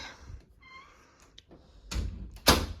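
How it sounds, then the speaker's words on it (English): A bedroom door opens with a soft thunk, then louder swishing bursts near the end, and a brief meow-like tone sounds early on. "And we open up the door, and this is what my room looks like."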